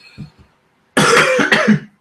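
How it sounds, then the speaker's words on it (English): Two coughs: a couple of soft, muffled ones, then a loud, harsh double cough up close, alone. "Sorry, guys, I got a cough."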